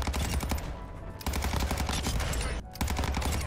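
Rapid machine gun fire in a video game, loud sustained bursts rattling almost continuously with two brief pauses between them.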